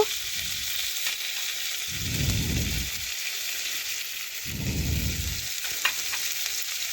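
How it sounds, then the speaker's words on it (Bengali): Onion and tomato frying in oil in a pan, a steady soft sizzle broken by two louder bursts of stirring, close and clear with no talking. "আমি লবণ দিচ্ছি না, তেল দিয়ে একটু ভেজে পেঁয়াজটা একটু নরম করে নেব।"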